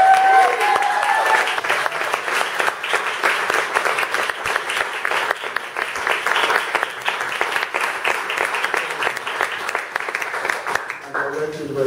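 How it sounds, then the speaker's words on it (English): Audience applause at a gathering, a dense wash of clapping that runs steadily for about eleven seconds, loud and close, then thins out near the end; no talk over it. "I would like to give a big round of applause to Cynthia Ross."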